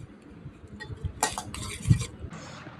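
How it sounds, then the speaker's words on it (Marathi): A metal spoon clinks and scrapes in a pot while mixing Maggi and Korean noodles together, a few short sharp clinks and soft stirring scrapes at close range with no talk. "आता हे मॅगी आणि Korean noodles one side mix करतो मी"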